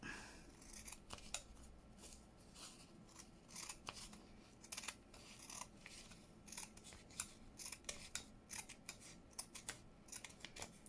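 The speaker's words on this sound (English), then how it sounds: "Right, let's cut down here." Scissors cut through fabric close up, with a quick sequence of crisp snipping strokes in an uneven rhythm, quiet and alone.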